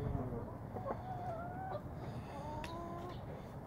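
A rooster wearing a no-crow collar gives muffled, strained crows, with two short stifled phrases close by over steady background noise.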